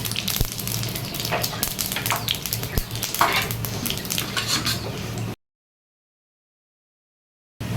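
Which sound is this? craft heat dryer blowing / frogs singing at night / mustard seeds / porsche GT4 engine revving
mustard seeds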